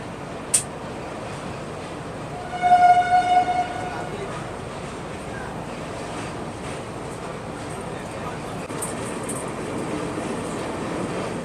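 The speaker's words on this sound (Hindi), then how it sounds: "लेकिन भाई साहब पैरेलल अभी भी चल ही रहा है हम लोगों का NMG रेक वाली मालगाड़ी के साथ" A long-distance Indian passenger train runs over a bridge alongside a freight train, giving a continuous rumble and rattle with a loud multi-tone horn blast early on and faint clicks, heard from on board.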